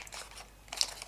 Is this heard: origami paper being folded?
yes